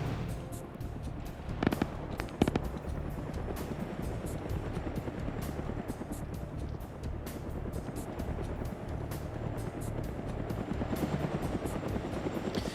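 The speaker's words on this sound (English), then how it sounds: "the helicopter's coming by" Huey helicopter in a video game flying past, its rapid rotor thumping steady and fairly distant, with a couple of sharp bangs early on.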